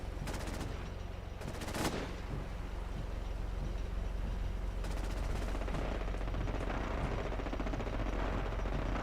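A Fallout 4 sentry bot robot unloads sustained automatic gunfire, with dense rapid bursts at the start and a long continuous barrage later, loud and without talk.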